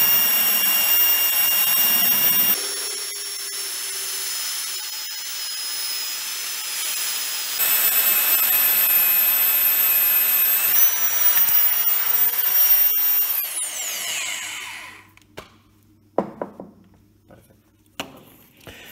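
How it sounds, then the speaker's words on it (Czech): A magnetic core drill bores a hole in steel, its motor whining loudly and steadily with a change in pitch partway through, then winding down to quiet, followed by scattered clinks and knocks of metal. "Zapneme vrtání a jedeme."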